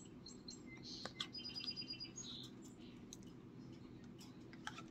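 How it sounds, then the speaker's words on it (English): Small birds chirp outdoors, heard faintly from inside a quiet room as a quick cluster of high tweets, followed by a few scattered calls. "Birds out there."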